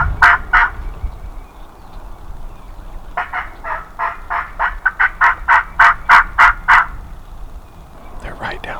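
Wild turkeys gobbling and calling from a ridge, a couple of calls followed by a long run of repeated, fairly clear yelps at moderate distance over faint outdoor background.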